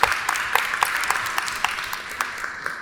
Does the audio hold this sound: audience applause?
yes